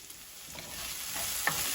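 Potatoes fry in a skillet for an egg and potato dish with a soft, steady sizzle, quiet and close, marked by a couple of faint stirring clicks and one brief sharper tap near the end.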